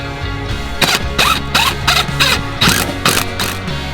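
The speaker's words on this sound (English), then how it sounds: "They're going to go into the frame of the seat, Loctite them, everything 27 foot-pounds torque." Ratchet wrench torquing Tacoma seat-riser bolts into the seat frame, a loud close run of quick sharp clicking bursts in an even rhythm, with no talk.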